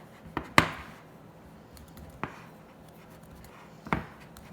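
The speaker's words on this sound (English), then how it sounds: "I'm gonna use a pastry blender just to try to make it a little bit more fine" Sharp thuds of a pastry blender pressing down through a bowl of flour and butter, three distinct strikes spaced apart, close and quiet between hits.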